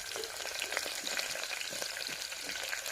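Chopped onion with green chillies frying in hot oil for vegetable pulao gives a steady, close crackling sizzle with busy high fizz and small pops throughout, and no voices.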